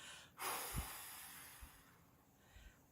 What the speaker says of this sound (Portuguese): Ainda que eu fique aqui soprando por bastante tempo